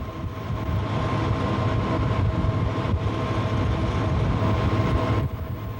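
An Algoma Central tour train rolls along the rails near the Agawa River and Agawa Canyon Park, a steady loud rumble of wheels and cars that eases slightly at the end.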